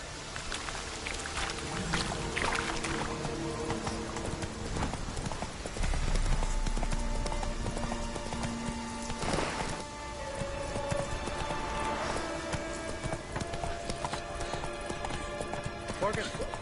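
Steady clip-clop of the horse Roach's hooves in The Witcher 3, a brisk rhythmic trot with a brief whinny, set under game music and spoken dialogue.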